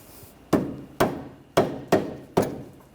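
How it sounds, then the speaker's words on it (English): Five sharp hammer taps ring out one after another, each a crisp metallic strike with a short decaying tail, as a ball joint on a 2013-2019 Ford Escape is seated into the control arm during a front strut replacement. "If you have to, you can give it a tap with a hammer."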